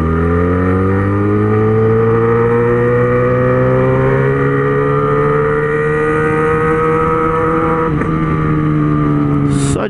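A Yamaha XJ6 motorcycle rides through city streets, its engine a loud, close, steady hum whose pitch climbs gradually as it accelerates, heard alone without talk.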